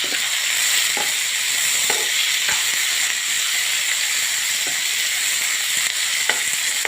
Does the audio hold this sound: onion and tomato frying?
yes